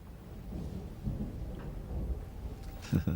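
Thunder rumbles low and distant, rolling on steadily before a louder, closer crack near the end, with no talking.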